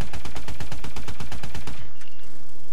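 Rapid automatic fire from the AE4 rifle at a shooting range in Call of Duty: Advanced Warfare, a steady loud burst of evenly spaced shots lasting nearly two seconds, then cutting off into a faint fading tail.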